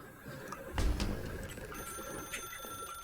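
A telephone rings in The Stanley Parable Ultra Deluxe, a bright bell-like trill that starts after a low thump and carries on steadily, clear and close in an otherwise quiet room.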